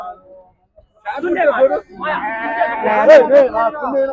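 Sheep bleat loudly and close by, several wavering cries overlapping with people talking amid a busy sheep and goat market at Chillakallu, NTR district, Andhra Pradesh.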